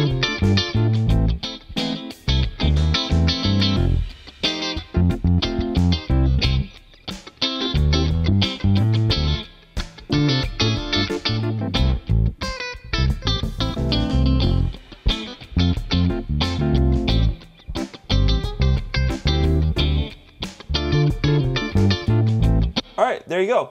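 An electric guitar run through a compressor pedal with reverb plays continuously and loudly, captured on an iPad, with dense strummed and picked notes filling the whole stretch.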